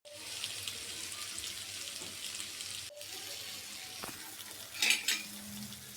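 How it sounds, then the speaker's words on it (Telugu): Fish frying in a pan sizzles in a steady hiss, with a brief louder burst of crackle midway, close and alone without talk. "సో ఫిష్ ఫ్రై అయితే చేస్తూ ఉన్నాను."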